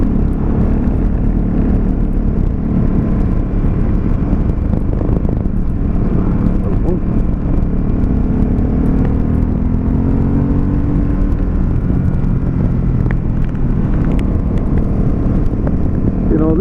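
2017 Ducati Supersport motorcycle ridden along a back road, a steady continuous engine and wind roar throughout with a rumbling low drone and faint pitch shifts, no voices heard.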